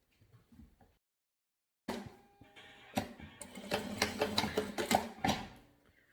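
A sewing machine runs a seam around the edge of a fabric blanket piece, starting after a short quiet pause with soft clicks, then whirring steadily in close, uneven stitching bursts.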